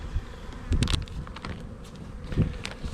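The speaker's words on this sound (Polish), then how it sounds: "piękna ciemna pszczoła" A close, busy hum of many dark honeybees buzzing around their hive in flight, with occasional louder buzzes as individual bees pass near.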